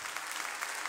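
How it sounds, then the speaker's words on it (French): A church congregation at a Creole service at Tabernacle de Gloire claps together, a short burst of dense, even applause heard moderately loud for under a second. "nous applaudissons encore"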